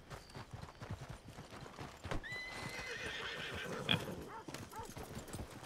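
Horse in the video game Red Dead Online whinnies sharply midway through steady clip-clop of hooves, with ambient game noise running underneath throughout.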